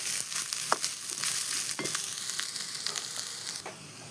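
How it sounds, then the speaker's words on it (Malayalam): Grated coconut roasting in a pan for a fish curry, a steady close sizzle with occasional soft stirring scrapes. "തേങ്ങ വറുക്കാൻ വെച്ചിട്ടുണ്ട്"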